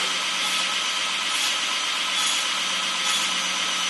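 A belt grinder running steadily while the edges of an old, wide belt are rounded off, giving a loud, continuous abrasive hiss and whir that stays close and even throughout, with no speech.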